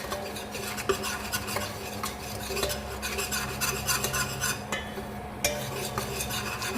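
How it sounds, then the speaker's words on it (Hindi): Mixed masala stirred and roasted in ghee in a pan on an induction cooktop at low heat, a steady close scraping and rasping of a spoon against the pan with faint sizzle, no talking. "हल्का सा घी में भून लेंगे।"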